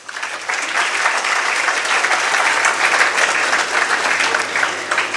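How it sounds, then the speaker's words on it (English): An audience at an inauguration ceremony for a skill development centre applauds in a dense, steady round of clapping that holds for several seconds. "A big round of applause, please."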